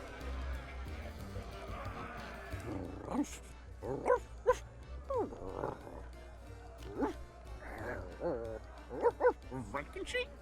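A small dog in the Monkey Island video game gives several short yips and barks in bursts, mixed with game sounds and someone talking over it.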